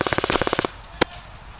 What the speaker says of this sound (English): I'm going to use the noise of him shooting to cover the sound of my shots.